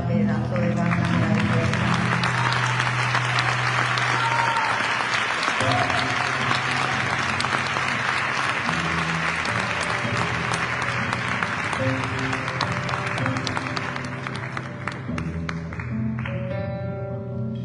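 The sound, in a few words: concert audience applauding the band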